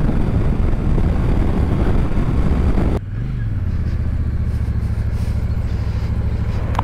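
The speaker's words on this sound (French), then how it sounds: "petit moteur volontaire." Royal Enfield Shotgun 650 motorcycle, 47 hp, riding along with heavy wind rush, then a low steady engine hum with a brief pitch rise after a shift, close and continuous.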